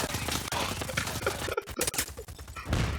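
Gunfire in the video game Just Cause 4: dense, continuous game action with rapid shot-like bursts and thumps throughout, loud and busy, with a brief drop near the middle before the firing resumes.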